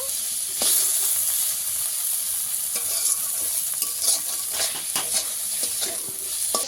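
Boiled eggplant frying in a pan, a steady bright sizzle and hiss with occasional scraping stirs of a spatula against the pan, close and continuous with no talk.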